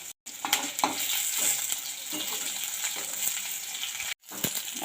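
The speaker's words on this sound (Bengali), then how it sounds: "শুকনো লঙ্কা দিয়ে দিলাম, তেলের সঙ্গে ভাজা হয়ে যাচ্ছে।" Dried red chillies fry in hot oil as a tempering, with fish pushed aside in the pan for a sour katla curry: a steady close sizzle with crackling pops, broken by two brief silent gaps.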